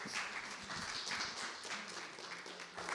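A church congregation claps in a faint, steady wash of applause for a few seconds after a pastor invites them to welcome someone.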